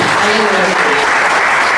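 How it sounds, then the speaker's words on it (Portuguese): A church congregation at Assembleia de Deus Mãos Unidas bursts into loud, full applause, a thick sustained roar of clapping. A voice rises briefly over it early on. "Dale un fuerte aplauso a Jesús."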